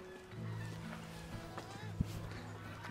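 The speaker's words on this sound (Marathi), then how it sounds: "हे बघा, टर्की आहे." A turkey at Samarth Krupa Farm resort in Pal gives faint, throaty calls in short bursts, with one sharp knock partway through and low background murmur around it.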